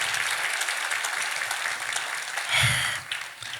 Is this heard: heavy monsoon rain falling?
no